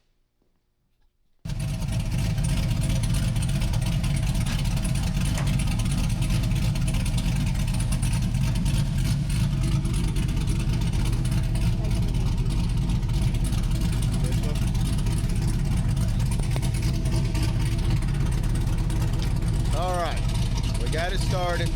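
LS-swapped Chevrolet Monte Carlo engine catching after a brief quiet moment and settling into a loud, rough, steady idle close by, with faint voices near the end.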